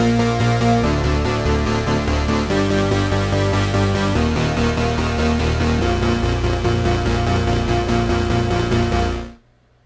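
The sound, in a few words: Omnisphere Barbaric Bass Arp synth patch with eighth-note arpeggiator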